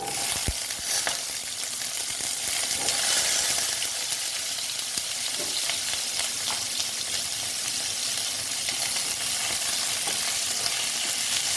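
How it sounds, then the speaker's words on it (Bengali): Pointed gourd pieces fry in hot oil with a dense, continuous, close-up sizzle, occasional light stirring knocks breaking through the steady hiss. "এবার আমি পটলগুলো দিয়ে দিচ্ছি পটলগুলো আবার ভেজে নেব ওই তেলেতেই দিয়ে দিলাম"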